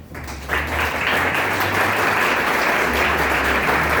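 A crowd at a writers' gathering claps after a speech. The applause swells in within the first half second and holds loud and steady to the end, with a low hum beneath it.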